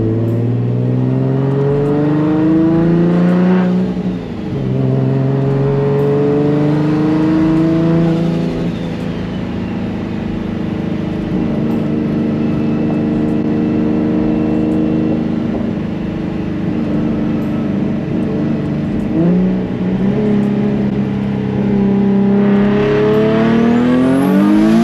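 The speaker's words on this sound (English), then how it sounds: "We're gonna drive it for a bit and then see what happens." Car driving along and repeatedly accelerating, engine pitch climbing through gears with dips between shifts, a steady close drone lasting throughout with no voices.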